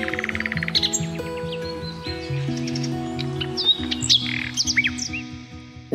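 A flycatcher held in the hand for bird ringing gives scattered thin, high chirps, some quick and clustered, with a steady tonal backdrop running underneath.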